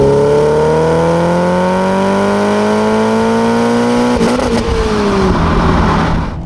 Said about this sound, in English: Let's extend that engine out all the way for you.